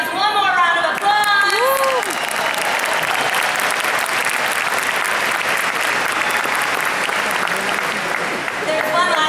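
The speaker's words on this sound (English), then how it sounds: "Let's give yourselves one more round of applause." A large audience in a conference hall gives a sustained round of applause, loud and dense throughout, with a few whoops and cheering voices rising above the clapping near the start.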